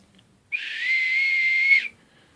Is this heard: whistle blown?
yes